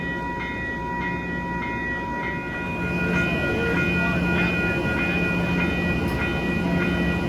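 A Metro-North fall foliage leaf extra passenger train rolls past on a bright autumn day near Iona Island, a steady loud rumble of rail cars with faint wheel noise and a high whine, continuous and close throughout.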